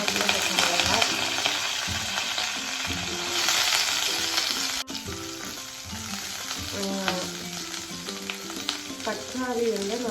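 Curry leaves and green chillies sizzling in hot oil with fennel seeds for egg curry, a steady loud crackling fry with stirring scrapes throughout and occasional voices in the background.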